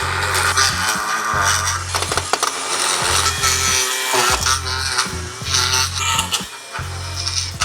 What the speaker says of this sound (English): What we're gonna use right now is this edger.